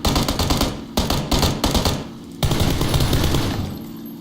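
Rapid automatic gunfire in a tactical shooter video game: loud, close bursts of shots, a brief pause, then another sustained burst that tails off into echo.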